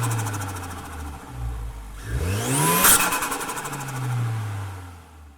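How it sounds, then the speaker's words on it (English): An 807 HP Dodge Hellcat Super Stock V8 idles with a deep rumble, then gives one sharp, loud rev that rises and falls back to a lumpy idle, recorded close under the hood. "I'm going to go ahead and give it a rev to make sure that I'm not clipping."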